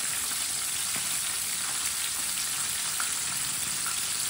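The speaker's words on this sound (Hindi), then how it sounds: "तीन मिनट के लिए चिकन को फ्राई कर लेते हैं।" Chicken fries in a pan over medium heat, giving off a steady, dense sizzle that holds at an even level throughout with no one speaking.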